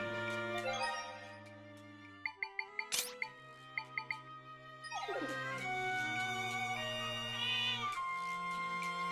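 A cartoonish cat in Zelda: Echoes of Wisdom gives a quick run of short, chirpy meow-like calls over soft, tonal background music.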